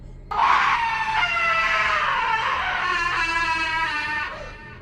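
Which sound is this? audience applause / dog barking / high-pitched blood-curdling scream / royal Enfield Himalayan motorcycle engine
high-pitched blood-curdling scream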